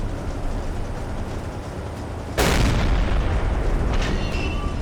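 Deck gun of a U-boat in the Silent Hunter 3 naval game fires a shell, giving one sudden loud boom about midway, with the roar sustained over a constant engine and sea rumble before it.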